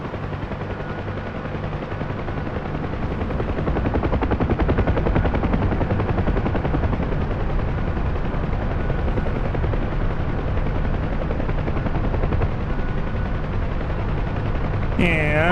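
A helicopter's steady rotor drone fills the scene in DCS World, with rapid ground fire rattling underneath it throughout, loud and continuous with no pauses.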